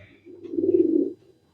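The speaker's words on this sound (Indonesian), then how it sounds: "Ini saya sudah pegang satu burung betina" A female pigeon held in the hand gives a single soft, low coo lasting about half a second, close and alone in a quiet room.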